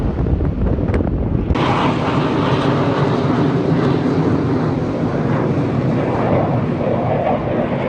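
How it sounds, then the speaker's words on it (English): Military jets fly near a Naval Air Station, a loud broad roar that swells in abruptly after a quieter start and then holds steady, mixed with wind-like rushing noise. "you will hear the jets fly"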